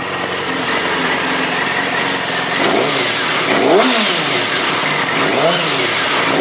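A 2007 Yamaha YZF R6 motorcycle engine runs at a loud, close idle, then revs up twice in rising and falling sweeps, with a slight smoother hum between.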